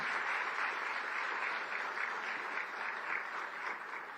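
Steady applause from a large crowd welcoming dignitaries on stage at an event in Ahmedabad, a dense even wash of clapping that holds for several seconds and tapers slightly at the end.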